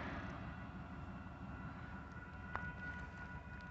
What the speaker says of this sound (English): we have a southbound UP train coming